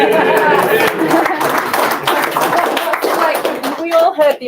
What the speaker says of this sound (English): We all heard the applause that Penycae had when we announced her name here this evening.